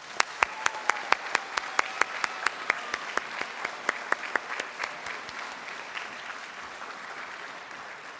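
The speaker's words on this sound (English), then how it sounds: "let us again have one more round of applause for all of our servicemen and women" Audience applause at an armed services awards ceremony for servicemen and women: a strong, distinct clapping rhythm at the start that thickens into a dense, steady ovation before fading slightly toward the end.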